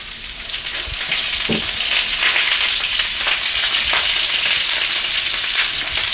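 Food fries in a hot pan while being stirred: a loud, continuous crackling sizzle that swells after the first second, with a few scrapes and knocks and no voices.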